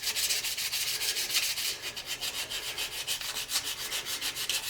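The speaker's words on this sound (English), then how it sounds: "I'm sanding at about a 45-degree angle to the workpiece" Sandpaper rubs against an acrylic workpiece spinning on a lathe, held at an angle, making a close, steady, raspy friction sound with a fast rhythmic pulse and no talking.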